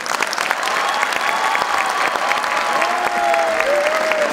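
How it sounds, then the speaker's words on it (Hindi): A large audience gives loud, continuous applause after students' performance at an Independence Day event, with a thin tone from the venue's sound system running through the clapping. "जोरदार तालियों से स्वागत करें।"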